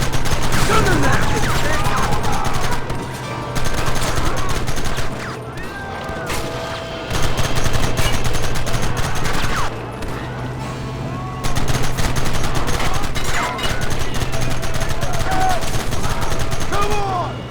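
Sustained gunfire in the Red Dead Redemption video game, a dense, loud barrage of shots over nearly twenty seconds with brief lulls, a steady low drone beneath and occasional voices shouting through the firing.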